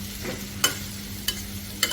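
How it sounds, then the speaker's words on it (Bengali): Chopped onions stirred in a frying pan, a soft steady sizzle broken by three sharp spatula scrapes at regular intervals, close and fairly quiet, with a low electrical hum underneath. "পেঁয়াজ কুচিগুলো আমি নাড়াচাড়া করে ভেজে নেব ভালোভাবে।"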